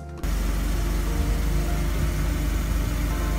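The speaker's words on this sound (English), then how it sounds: "And while the engine is running, the pump should be heard like this." A steady mechanical hum and buzz from the fuel pump of a Mercedes with KE-Jetronic fuel injection runs alongside the idling engine, constant and close, starting abruptly after a brief moment of quiet.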